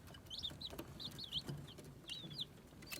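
Rhode Island Red hens cluck in soft, scattered bursts at a moderate distance, quiet overall, with light background rustle.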